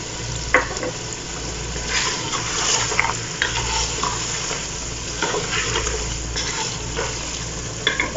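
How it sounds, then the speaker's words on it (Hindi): Mutton korma being stirred in a pot with spices and salt, a steady scraping and sizzling churn that carries on throughout at moderate level, alone without talk. "मैं इसको अच्छे तरीके से मिक्स कर लूँगी"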